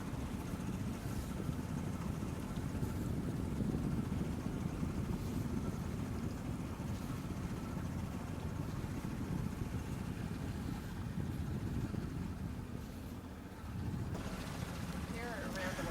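A boat motors across Lyman Lake near St Johns, Arizona, its steady low engine drone and wind buffeting continuing throughout with a brief dip near the end, and people talking over it.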